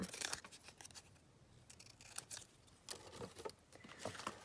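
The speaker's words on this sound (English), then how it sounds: "just snip that down with my hair thinning scissors" Hair thinning scissors snip through paper in quick, irregular bursts of crisp cuts, faint but close, with short pauses between runs of snipping.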